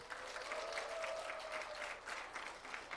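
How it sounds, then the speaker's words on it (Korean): A church congregation gives a round of applause for the young choir members, a soft, distant patter of many hands clapping steadily with a faint tone lingering underneath. "박수 한번 쳐주세요"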